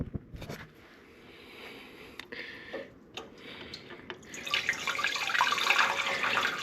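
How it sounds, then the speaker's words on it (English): Water drains from the drive housing of a 1972 Allis Chalmers M65 road grader, starting as faint trickles and scattered drips, then building into a steadier, louder splashing flow toward the end. "This drive's getting drained completely down"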